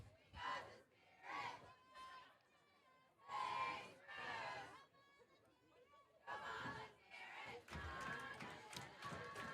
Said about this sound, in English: The Spruce women's team cheering on their men's side to go strong into the second half.